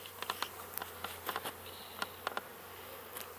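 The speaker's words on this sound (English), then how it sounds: "So they'll start swarming where their hive used to be." Honeybees swarm around the spot where their hive used to be, a faint outdoor buzz with several brief close fly-bys rising and fading over a steady hum.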